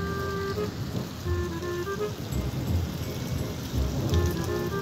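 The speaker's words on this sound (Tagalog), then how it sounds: "Umuulan ng yelo rito." Hail pelting down outdoors in Saudi Arabia, a dense, steady patter of ice striking surfaces that sounds much like heavy rain, with faint tonal sounds and occasional stronger bursts throughout.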